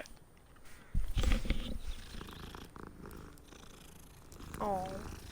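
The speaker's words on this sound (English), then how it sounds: "Cat, nice pet." A cat purrs in the video game Hogwarts Legacy, a brief low rumbling purr that swells for about a second before settling under quieter in-game ambience.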